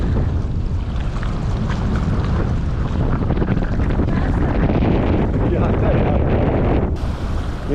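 Strong wind buffets the microphone aboard a sailboat near Maupiti, a loud, continuous roar mixed with rushing water and sea noise, unbroken throughout.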